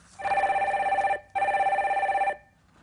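A telephone rings twice in a steady electronic double burst, close and clear, as a viewer call is connected on a Korean stock-market call-in show.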